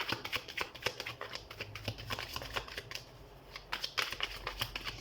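Tarot cards being shuffled by hand, a steady run of soft papery riffles and flicks at close range with no talking, fairly quiet throughout.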